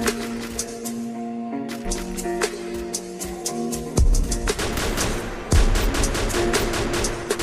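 Rapid bursts of gunfire ring out in a mobile battle-royale style video game fight, with repeated sharp shots and heavier impacts, steady and dense throughout against a tonal music or ambience layer.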